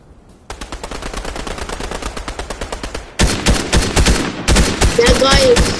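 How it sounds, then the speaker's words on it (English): Rapid automatic gunfire in a video game, starting with a steady stream of close, loud shots and then bursting into heavier, denser volleys; no one speaks. "there's people shooting at me"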